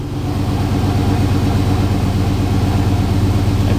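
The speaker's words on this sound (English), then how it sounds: "the pipe rattles because it's all connected" A GM vehicle idles with its exhaust pipe rattling from a smashed-down engine and transmission crossmember mount, giving a loud, steady, close low rumble with a constant buzzing vibration throughout.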